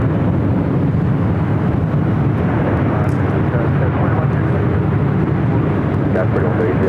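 A jet airliner takes off from runway 24 left at LAX, its engines a loud, sustained broadband roar that continues steadily throughout, with people talking over it.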